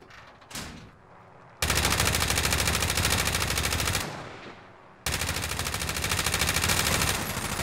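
Sustained automatic gunfire from the video game Call of Duty Warzone, loud and close, in two long bursts with a brief lull between them and no talking.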